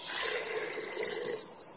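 Water pours steadily into a pressure cooker holding soaked black chickpeas, a continuous close splashing stream that runs throughout the short stretch with no speech.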